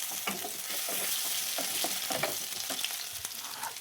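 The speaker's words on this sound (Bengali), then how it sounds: "গ্রেট করা আদাটা দিয়ে দিচ্ছি, দিয়ে এটাকে আরেকটু ভেজে নেবো" Grated ginger fries with shrimp in a pan, a steady loud sizzle broken by scraping stirs, close up and with no speech.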